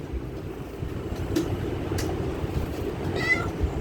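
A cat's meow rises briefly near the end over a steady low background rumble, close by and moderately loud.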